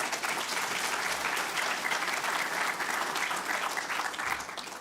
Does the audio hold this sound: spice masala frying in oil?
no